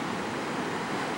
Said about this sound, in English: These are some of the waves that they ride in. They're not very big, but they're constant.